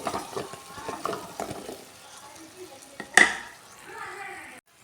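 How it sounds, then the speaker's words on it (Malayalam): A spoon stirs a raw mango pickle mixture in a pan, making soft scraping and rhythmic tapping strokes with a faint sizzle beneath and one sharp utensil clatter partway through. "നന്നായി ഇളക്കി കൊടുക്കുക"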